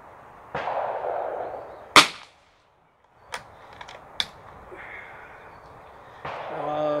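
A single sharp, loud gunshot from CCI ammunition during chronograph temperature testing cracks out after a soft murmur. A short silence follows, then a few lighter clicks and handling noises.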